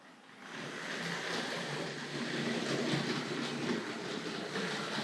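Continuous rumbling clatter of a Hornby Dublo West Country Class model locomotive with coaches rolling along a track, rising from quiet and holding steady with faint rhythmic clicks.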